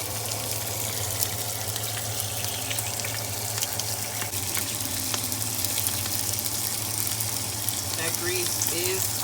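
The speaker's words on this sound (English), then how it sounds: "That grease is talking. It is popping." Grease sizzles and pops steadily as a burger with cheese curds fries in a pan, a dense, close crackle with scattered sharp pops running throughout.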